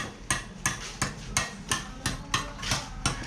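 Hammer striking repeatedly while a worker chips out material for an arch during a kitchen and staircase renovation, about nine sharp, evenly spaced blows with no talking.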